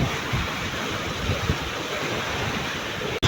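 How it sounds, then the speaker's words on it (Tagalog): Wind blows at sea beside a service boat, a loud, steady rush of broadband noise buffeting the microphone with no voices. "medyo mahangin-hangin na po"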